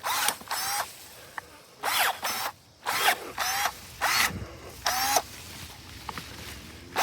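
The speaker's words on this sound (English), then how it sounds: "I'm going to cut the tree down." A power tool cuts down a maple tree in short, loud, whining bursts of about a second each, repeated roughly eight times with brief quieter gaps between them, close by and without talking.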